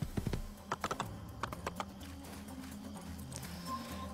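Horse hooves clopping during a ride in the video game Assassin's Creed, a quick irregular series of soft knocks over a low sustained musical backdrop, fairly faint with no talking.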